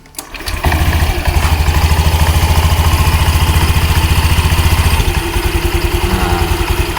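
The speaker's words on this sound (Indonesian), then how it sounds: "kita hidupin motornya, kontak on," An automatic scooter's engine fires up and settles into a loud, steady, throbbing idle in neutral, close by, with a rough, rhythmic chugging clatter throughout.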